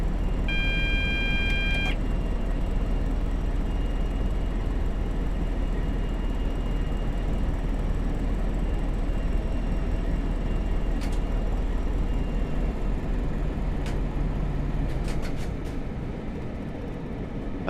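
A Class 20 diesel locomotive idles in Train Simulator 2017 on the London Bridge to Selhurst route, giving a steady low engine drone throughout with a few faint beeps and clicks over it.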